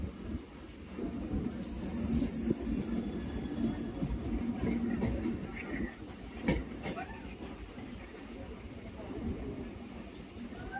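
An Indian Railways Mangala Lakshadweep Express rumbles past near Ukshi with a steady rolling roar, faint clicks of the wheels and a few sharp knocks. The sound stays moderately loud and constant throughout.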